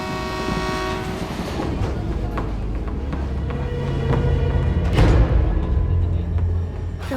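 A train rumbles loudly and steadily through a railway station, with sustained horn-like tones riding over heavy rolling noise and a louder swell near the end.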